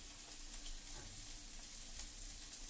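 Chinese cabbage fries in a narrow pan on the stove, giving a soft, steady sizzle and crackle throughout at low volume, with no talking.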